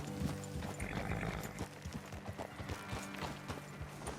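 Horses in Red Dead Redemption 2 clop along in a steady walking rhythm, with close hoofbeats and a brief whinny, over outdoor ambience.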